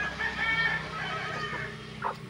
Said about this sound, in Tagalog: Ito, may manok siya dito sa ilalim ng kanyang dampa.